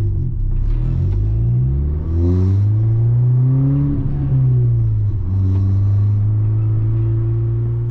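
A VW MK6 GTI with an upgraded exhaust revs up loudly, rising in pitch, holding, dropping, then revving again. The deep exhaust rumble is heard up close with no talk.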